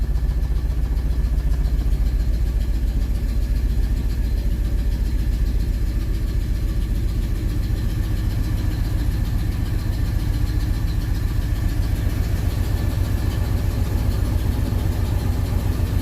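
A 1968 Oldsmobile 442 idles after a cold start, a steady, even rumble from close by that holds the same level throughout with no voices.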